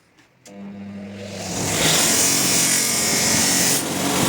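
Steady abrasive rasping of sandpaper against a metal knife blade starts after a short pause, builds louder and continues evenly, with no voices.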